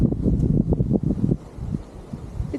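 Outdoor wind on a dusty day buffets the microphone in low gusty rumbles, stronger at first then easing, with no speech.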